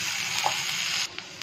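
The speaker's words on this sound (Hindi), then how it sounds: "प्याज टमाटर को थोड़ा सा एक से दो मिनट तक सेक लेना है हमें।" Onion and tomato sizzle steadily in a hot pan, a continuous close frying hiss with a faint stirring clink, easing off near the end.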